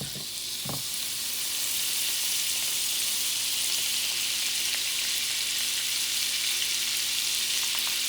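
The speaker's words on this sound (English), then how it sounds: "Hot pan. I have some unsalted butter. Going to start melting it." Unsalted butter melts in a hot pan with a loud, continuous crackling sizzle that holds steady, and a brief knock sounds near the start.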